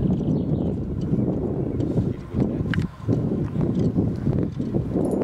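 A working horse named Miss Valuev moves steadily, its hooves clip-clopping in a continuous, fairly close rhythm over a low rush of wind.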